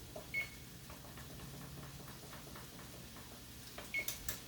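Oven control panel being set to preheat to 400 degrees, a short electronic beep followed a few seconds later by another beep and a couple of button presses, close in a quiet kitchen.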